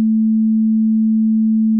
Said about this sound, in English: This is a constant sine wave.